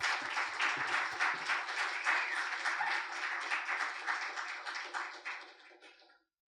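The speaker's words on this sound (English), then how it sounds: "Please give a very, very warm round of applause to Priyanki." Open mic crowd giving a warm, steady round of applause to welcome a performer, dense clapping sustained for about six seconds before stopping abruptly.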